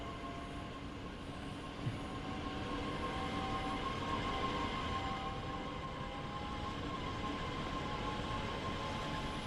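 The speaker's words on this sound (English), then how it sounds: "Oh, train coming, train coming," A DB BR 442 train in Train Sim World 2 on the Nahverkehr Dresden route approaches with a steady mechanical rumble and a sustained tonal whine, moderately loud and building slightly, with no voices over it.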